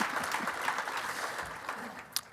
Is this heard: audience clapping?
yes